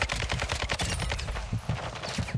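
Close, loud bursts of rapid automatic gunfire in Call of Duty: Modern Warfare II, a dense volley of cracks followed by sparser scattered shots.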